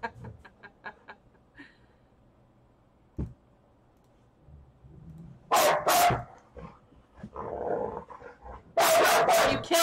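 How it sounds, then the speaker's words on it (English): Dogs bark indoors during a tabletop role-playing game session. There are two loud bursts of close barking, with faint clicks and quiet activity in the room between them. "I am really sorry about the dogs, you guys."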